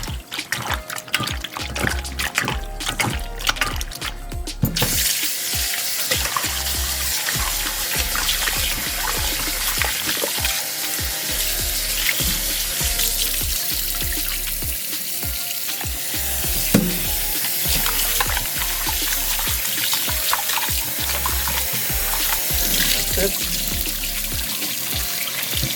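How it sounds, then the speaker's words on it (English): Water runs steadily over diced chicken breast pieces being washed with vinegar in a sink, a continuous broadband hiss with wet splashing and stirring, close and fairly loud, no talking. "I'm gonna wash it with some vinegar."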